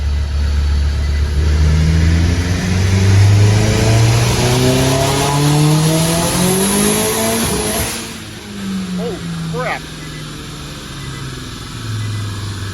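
An ethanol-powered turbocharged Nissan Cube accelerates hard with the boost turned up. The engine note climbs loud and close through rising revs, drops briefly, then settles into a lower drone.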